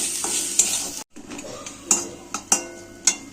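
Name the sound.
spice paste being stir-fried in a pan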